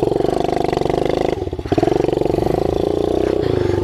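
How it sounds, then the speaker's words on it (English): A Kawasaki KLX 110 pit bike with open exhaust and no air filter runs steadily nearby with a loud, rapid put-put, briefly stumbling and bogging about midway before settling back to an even idle. "So it's gonna need adjusted a little because it's bogging."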